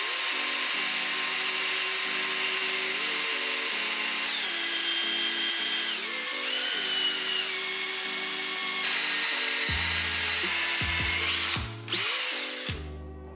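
A power drill whirs continuously into pine wood, its motor pitch rising and dipping as it bites, loud and close with brief stops near the end.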